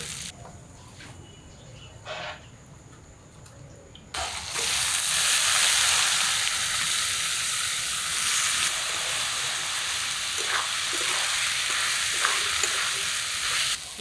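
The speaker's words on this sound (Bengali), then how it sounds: "ডালে চালে মশলার সাথে কষিয়ে নিলাম।" Rice and lentils fry with ginger, turmeric and coriander spices in hot oil, giving a loud, steady sizzle that jumps up suddenly after a quieter opening and then holds as a continuous hiss with occasional stirring scrapes.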